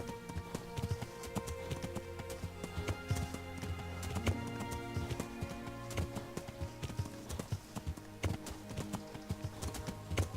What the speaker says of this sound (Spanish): Montar en caballo.